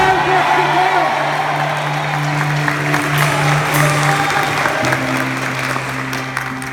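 Catholic church congregation claps in steady, dense applause that continues throughout, with a preacher's voice and a sustained organ or keyboard tone running beneath it.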